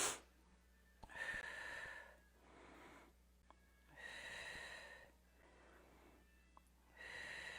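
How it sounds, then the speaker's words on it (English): Slow, deliberate breaths during a balance board exercise, a breathy exhale followed by alternating drawn-out inhales and exhales at a steady pace, close and quiet. "Exhale up."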